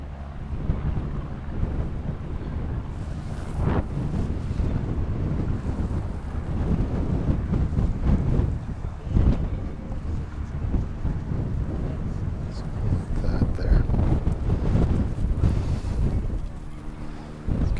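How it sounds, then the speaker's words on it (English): Strong wind buffets the microphone with low rumbling gusts and thumps, continuous and loud throughout, with no one speaking. "a little windy here."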